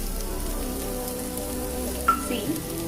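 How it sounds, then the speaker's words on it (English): Capsicum sautéing in a pan, a continuous dense sizzle like steady rain, close and even, with a brief faint clink near the end. "add my capsicum and I just slightly need to saute it in the pan"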